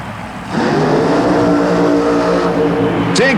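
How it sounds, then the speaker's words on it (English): A Chevy super modified mud racing car roars down a mud track at a 1991 Oklahoma City event, its engine note loud and sustained from start to finish with a rising pass near the end. "The Bad Habit Chevy gets to start things off in the shootout war."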